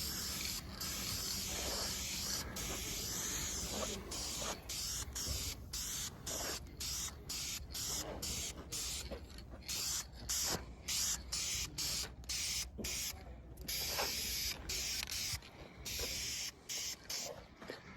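Aerosol spray paint hisses in long steady bursts with brief pauses as a heavy coat goes onto the oil pan of a 1956 Ford Thunderbird, close and loud, with no talking.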